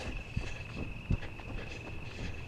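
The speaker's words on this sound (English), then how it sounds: "I hear like crickets." Crickets chirp steadily in the background of a quiet outdoor night, with a couple of soft thumps like footsteps.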